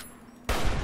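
A single loud, close gunshot from Fallout: New Vegas bursts in abruptly after a quiet moment and carries through to the end.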